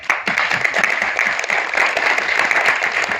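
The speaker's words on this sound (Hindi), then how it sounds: "ताली मार के दिखा" An audience at a press conference for the trailer launch of the film Uunchai claps steadily in a dense burst of applause, sustained for a few seconds at moderate loudness.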